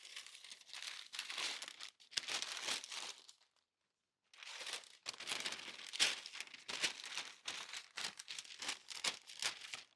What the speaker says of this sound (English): let's make sure to open up the paper to just make sure there are no small parts wrapped up in it